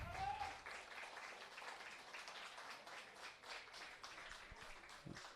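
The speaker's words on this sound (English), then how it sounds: "Great applause from the crowd." Crowd at a Perth Glory versus Gwelup Croatia NPL WA football match applauding a substituted player, steady faint clapping from a distance across the whole stretch.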